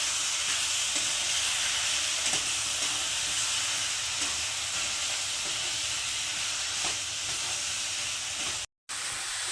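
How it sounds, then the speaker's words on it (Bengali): Vegetables for shukto with a mustard spice paste frying in a pan, a steady close hiss with faint scraping touches throughout and a brief cut near the end. "এবার এটার সঙ্গে জাস্ট 2 মিনিট একটু কষিয়ে নেব"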